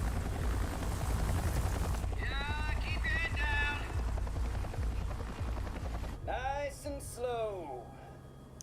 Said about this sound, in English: The helicopter always dies.